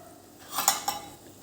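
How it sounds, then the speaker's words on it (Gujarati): Utensil stirring green brinjal oro mixture in a pan, a few soft scraping clinks close by over low background hiss, with no talking. "આ બધું એક વખત હવે સારી રીતે મિક્સ કરી લેવાનું છે"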